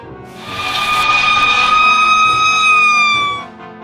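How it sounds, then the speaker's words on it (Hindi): Fire engine siren wailing in long sustained rising-and-falling tones, loud and close, holding steady for several seconds before cutting off near the end. "इसके बाद फायर इंजन वहां आ पहुंचा।"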